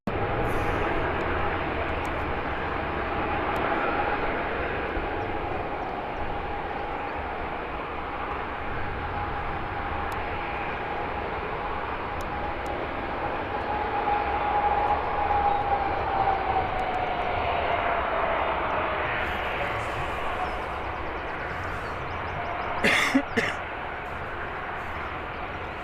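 A Jet2 airliner departs Birmingham Airport, its jet engines making a steady distant roar throughout, with a short louder clatter near the end.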